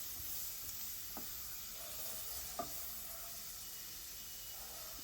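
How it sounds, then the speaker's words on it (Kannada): Chopped tomato mixed with salt and frying in a pan for prawns semi-dry, giving a soft steady sizzle with a couple of faint clinks of stirring and no talking. "ಟೊಮೆಟೊ ಹಾಕಿದ ನಂತರ ಸ್ವಲ್ಪ ಉಪ್ಪು ಹಾಕ್ಕೊಂಡು ಅದನ್ನು ನೀಟಾಗಿ ಮಿಕ್ಸ್ ಮಾಡ್ಕೊಳ್ತಾ ಇದ್ದೀನಿ"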